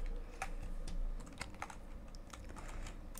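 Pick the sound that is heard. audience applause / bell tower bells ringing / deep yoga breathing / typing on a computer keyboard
typing on a computer keyboard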